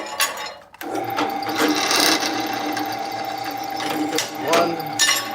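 A drill bores lanyard holes through a knife blade in a knife-making shop, giving a steady motor hum with grinding, rasping bursts as the bit cuts into the steel, plus a brief pause near the start.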